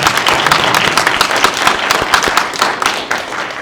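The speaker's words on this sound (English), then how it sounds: "Can we give a round of applause for the family?" Sustained audience applause at an award celebration ceremony, dense steady clapping with a few sharper claps, fairly loud and continuous throughout, no speech over it.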